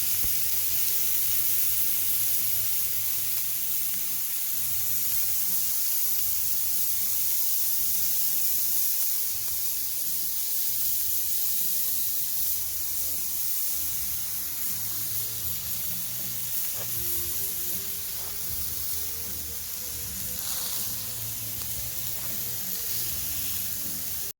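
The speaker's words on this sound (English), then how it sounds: "This is already frying." Onions for shakshuka fry on a Tribal Fire Grill, giving a steady, close, hissing sizzle that continues unbroken, with soft crackles and faint clinks underneath.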